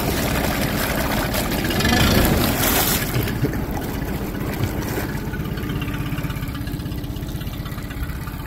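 A 2010 Yamaha 25hp four-stroke carbureted outboard with automatic choke runs in gear, a steady mid-pitched engine drone with water wash that swells briefly at low throttle and then settles into an even hum, heard alone.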